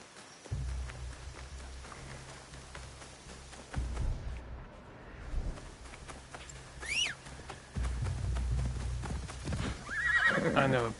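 A horse in Assassin's Creed Shadows clip-clops along with hooves pounding in bursts, then neighs and whinnies near the end, set against quiet ambient game sound.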